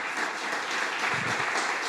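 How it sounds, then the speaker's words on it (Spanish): A church congregation applauds in a steady, dense wash of clapping throughout a short burst, with no pause. "Dele un aplauso al Señor, mi hermano."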